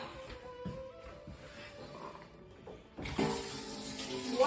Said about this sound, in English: wash that knife